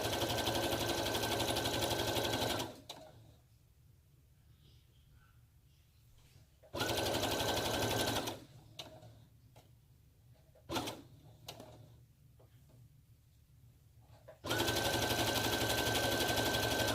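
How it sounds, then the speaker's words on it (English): A KnowMe model 8933 serger stitches in three loud, rapid bursts, separated by quieter pauses in which the machine stops running. "My serger is a KnowMe serger."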